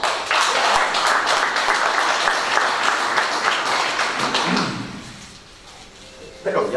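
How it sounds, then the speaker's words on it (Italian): Audience clapping at a book presentation in Casapesenna, a steady burst of applause from a seated crowd that dies away after a few seconds, leaving a quiet room and a thump near the end. "Però gli applausi un po' più di entusiasmo"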